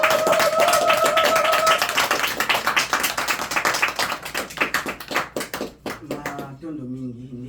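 A crowd claps hands together in rapid, dense applause that gradually thins into sparser claps, then fades as a voice begins speaking at the end.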